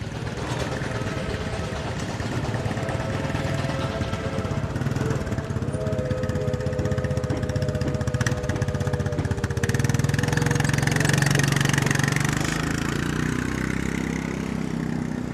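An old tractor engine idles with a steady low chugging, close by and continuous, revving up slightly partway through, at a threshing show.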